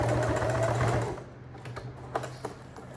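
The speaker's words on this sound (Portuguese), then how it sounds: "vou fazer uma costura com retrocesso no início e no final, só nessa parte reta inferior aqui do corpo da bolsinha" A sewing machine backstitching a straight seam along the lower edge of a small bag body, a loud rapid mechanical hum for about a second, then quieter clicks and taps as the fabric is handled.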